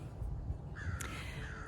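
Crows harassing a red-shouldered hawk give a drawn-out caw partway through, fairly faint and outdoors over steady background noise.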